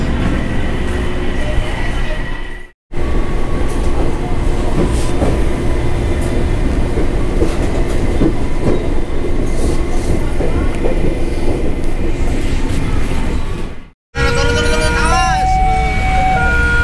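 Steady rumble and rattle inside a moving KRL commuter line train in Jakarta heading to Tanjung Priok, continuous and fairly loud, with brief cutouts and faint squeals near the end.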